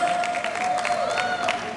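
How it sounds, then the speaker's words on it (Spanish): At a live concert, an audience claps in a brief burst of applause, dense and steady, with a faint tone ringing through from the venue sound system. "Vamos a aplaudir, aplaudimos."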